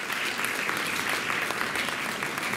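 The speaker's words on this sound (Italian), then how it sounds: "Ludovica Maddes, l'applaudiamo ancora qua, e Giovanni Aielli." A school audience applauds steadily throughout at a classical high school's white-night event, a dense, even wash of clapping with no voices standing out.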